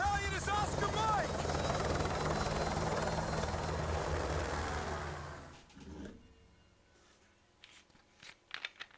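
Helicopter in Call of Duty: Modern Warfare Remastered, a loud steady rotor roar with voices over it, cutting out abruptly after about five seconds and leaving quieter game sounds.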